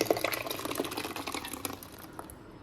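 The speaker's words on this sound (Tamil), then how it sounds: "ஜில் வாட்ரு தான் ஊற்றிக்கிட்டு இருக்கேன்." Chilled water from the fridge poured into a vessel while making homemade butter, a faint, steady splashing trickle that tapers off toward the end, with no talk over it.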